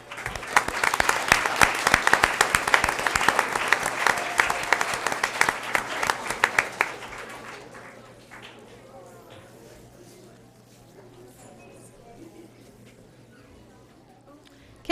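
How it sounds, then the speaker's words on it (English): An audience at a school board meeting applauds district science fair first-place winners, loud dense clapping for about seven seconds that then fades into quieter room murmur. "One round of applause"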